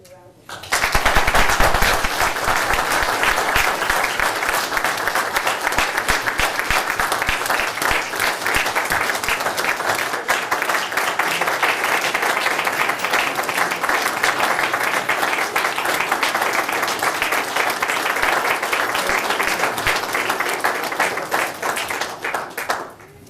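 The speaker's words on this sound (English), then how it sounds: "Let's give them a round of applause." A school board meeting audience applauds its teachers with sustained, dense clapping that carries evenly for about twenty seconds before tapering off.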